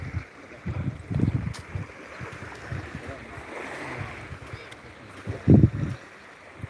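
Waves wash onto a beach in soft surges amid a steady wind hiss, with a few low bumps of handling noise close by.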